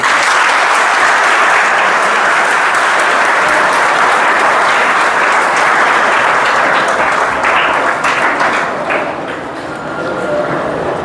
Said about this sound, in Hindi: मैं चाहूँगा कि आप सब तालियों से उनका स्वागत करें।